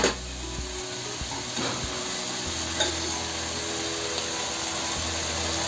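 Grated coconut goes into hot oil while cooking a val bean vegetable dish, producing a steady, even sizzling hiss that continues alone without pause.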